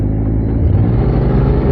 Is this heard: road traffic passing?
yes